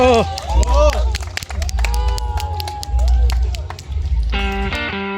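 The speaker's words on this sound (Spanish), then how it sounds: "Aplausos, por favor." A crowd applauds and cheers at a ribbon-cutting ceremony at a water park, loud scattered clapping mixed with whistles, shouts and busy voices, with bright tones ringing out near the end.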